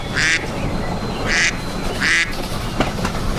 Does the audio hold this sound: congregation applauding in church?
no